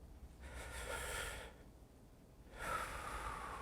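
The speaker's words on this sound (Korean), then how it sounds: "내쉬고" Two long breaths drawn in a deep-breathing exercise using the diaphragm, each a soft, airy rush lasting over a second, close and clear with a quieter pause between, no talk.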